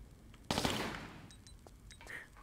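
Lara firing guns in Tomb Raider IV, a sudden close burst of rapid shots that fades into a lingering echoing tail, with faint game sounds afterward.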